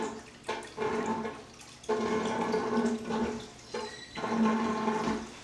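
Water draining and siphoning out of a water softener tank during mineral extraction, gurgling rushes in repeated surges separated by brief lulls, close and fairly loud.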